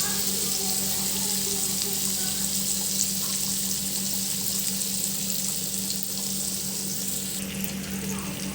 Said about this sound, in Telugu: ఇలా చూడండి, ఇలా ఫ్రై అవుతుంది నీట్గా